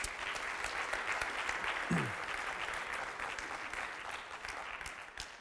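Steady audience applause at a startup launch event in Waterloo, even and continuous clapping from a gathered crowd with a brief cheer or whoop partway through, no talking over it.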